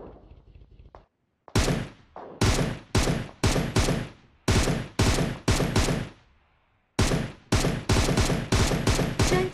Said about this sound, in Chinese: 我下车用突击步枪向他们开火